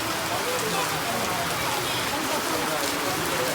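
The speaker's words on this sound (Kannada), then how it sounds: "ಮಳೆ ಬರ್ತಿದೆ. ಈಗ ಮಳೆ ಬಂತು ಫೈನಲಿ." Rain comes down at a temple on a day trip, a constant close hiss of drops on surfaces with no break, and a faint murmur of voices may sit beneath it.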